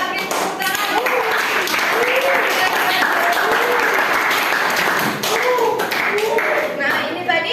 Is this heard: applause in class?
yes